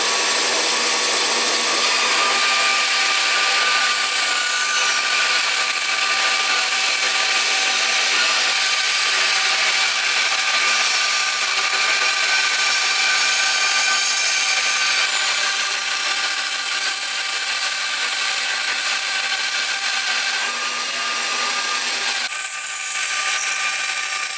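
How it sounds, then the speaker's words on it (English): An edge sander shapes down a guitar neck, grinding it even with the end of the fretboard; a steady, loud abrasive whir with rubbing texture runs continuously and alone, shifting slightly near the end. "This is an edge sander."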